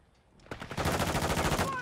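Rapid automatic gunfire from a Call of Duty: Modern Warfare II match, a dense, loud burst of repeated shots that starts abruptly after a quieter lead-in and rattles on steadily to the end.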